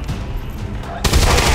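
Gunfire from a shot in the video game XCOM 2 bursts in suddenly and loudly near the end, following a quieter stretch of game ambience.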